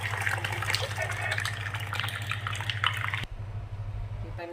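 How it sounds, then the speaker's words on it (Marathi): Cooked dal poured into a pan in a home kitchen for dal bati, a steady liquid splashing and gushing that stops abruptly, with a low hum running underneath. "तर ही सगळी डाळ मी याच्यात ओतून घेणार आहे"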